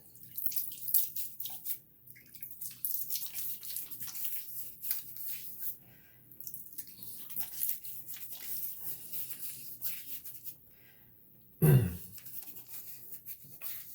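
Water splashed onto the face at a sink during washing with soap, with irregular drips, trickles and splashes, one louder burst of water near the end, and no talking.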